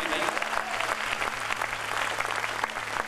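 Sustained applause from a seated audience at an evening poetry gathering honoring martyrs, dense and steady throughout at moderate loudness with no break.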